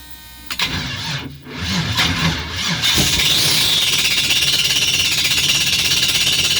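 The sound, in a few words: starter cranking LS-swapped Nissan Altima engine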